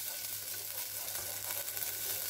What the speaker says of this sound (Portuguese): vamos refogar um pouquinho a cebola